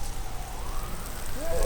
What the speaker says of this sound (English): So you're watering these freshly planted veggies.